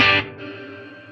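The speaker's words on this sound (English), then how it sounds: "A nice clean amp with a little bit of reverb sounds great for a clean gent." A single electric guitar chord through a clean amp with a little reverb strikes loudly, then a reverb tail decays softly over about a second.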